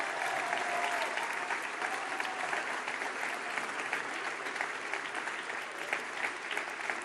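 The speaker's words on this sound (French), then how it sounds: "Merci à toutes et tous ce soir, une fois encore, de les applaudir." A large crowd at a French presidential election-night rally applauds continuously, a dense, even wash of clapping that holds for the whole stretch.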